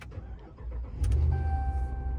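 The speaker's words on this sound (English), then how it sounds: "once we push the start button and hold it down, our starter will engage" A car engine cranks and catches after a push start button is pressed and held, the starter whirring briefly before the motor settles into a steady close idle hum.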